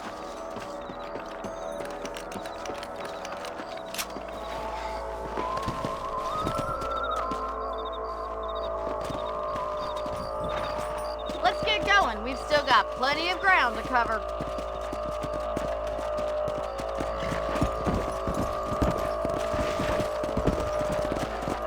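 Horse hooves clip-clopping at a riding pace in Red Dead Redemption, a steady rhythmic patter under ambient game sound, with a voice speaking briefly and creaking tack-like mechanical noises midway.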